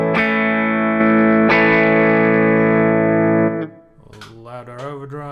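Electric guitar through a clean boost pedal into a high-headroom amp, two or three loud, sustained clean chords ringing out uncompressed, then a few spoken words at the end.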